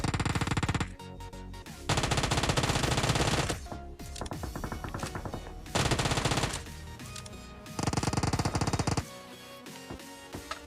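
Gunfire in PUBG comes in several loud bursts of rapid automatic fire, separated by short gaps of quieter background sound.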